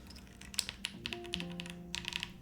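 Typing on a Cupid65 mechanical keyboard fitted with IPX switch film, a quick run of crisp, close keystroke clicks with brief pauses, heard alone without talk.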